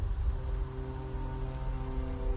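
Steady rain falls at night in the Vlad Circus video game, a continuous patter over a low tonal hum with no talking.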